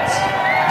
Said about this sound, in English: A big cheer for the atomic fungi.